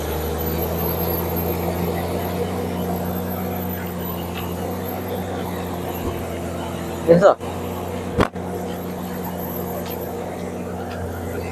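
A TATA Prima heavy-duty truck labors up a steep haul road in a mine, its engine droning in a loud, steady, low rumble with a couple of brief knocks, while someone talks over it.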